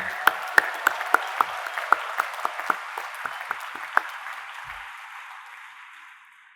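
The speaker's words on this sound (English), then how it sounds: "I ask you to give yourself a huge round of applause in which I join." Graduates and guests applaud at a university convocation ceremony in a large hall, scattered sharp claps over a broad wash of clapping that gradually thins and fades out toward the end.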